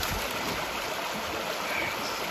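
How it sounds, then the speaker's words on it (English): Water sluicing into a natural pool beside a trail, a steady broadband rush of flowing water, continuous and moderately close. "Water sluicing in."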